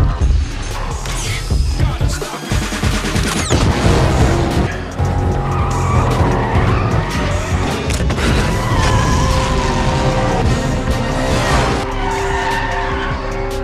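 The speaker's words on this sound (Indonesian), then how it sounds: "Kemudian mereka pun menuju trek untuk melakukan balapan." Race cars in a Fast and Furious 9 track race scene, engines roaring loudly with sharp tire squeals and skids, revving passes and screeching slides layered continuously and close up throughout.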